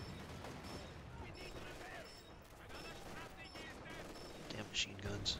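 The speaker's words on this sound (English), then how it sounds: "machine guns." Machine gun fire in Company of Heroes 2 during a 4v4 battle on La Gleize, rattling bursts mixed with battlefield noise at moderate distance, with in-game voices calling out between the shots.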